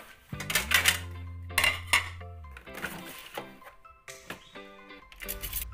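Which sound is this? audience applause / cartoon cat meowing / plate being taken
plate being taken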